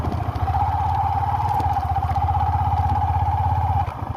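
A motorcycle engine runs steadily at night on a dark riverside shortcut, a loud, continuous low rumble with a constant idle-like throb that dips slightly near the end.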